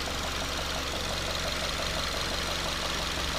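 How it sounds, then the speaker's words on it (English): A 2.5 liter boxer engine in a 2014 Subaru Forester idling under the open hood, a steady, even hum with a faint ticking texture, close up and continuous, no voices. "This is the boxer engine."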